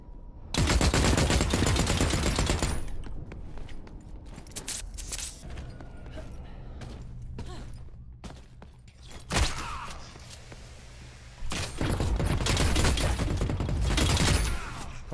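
Bursts of automatic gunfire ring out in The Cycle: Frontier, with a long loud volley at the start, scattered shots in the middle and another sustained burst near the end, plus quieter movement sounds between them.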